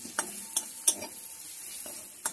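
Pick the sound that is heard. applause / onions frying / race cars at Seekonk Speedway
onions frying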